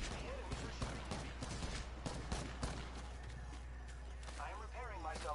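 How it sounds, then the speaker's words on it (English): Enemy gunfire in a video game, rapid crackling bursts and volleys under continuous speech from a player, dense and busy throughout. "The enemies are shooting at me."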